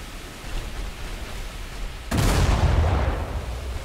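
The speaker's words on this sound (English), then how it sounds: "Big hit. Enemy ship on fire." Naval gunfire in War Thunder as a Royal Navy Tribal-class destroyer engages an enemy ship: after a low steady rumble, a sudden loud broadband blast of a shell hit erupts and lingers as a heavy roaring wash.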